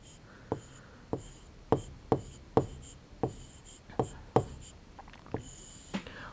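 Chalk writing out weekday names on a classroom board, with about ten crisp taps and strokes in an uneven rhythm and a quiet room behind.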